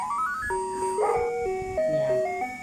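An Anpanman musical toy plays a bright, beeping electronic tune of stepped notes, steady and close, with faint background sounds underneath.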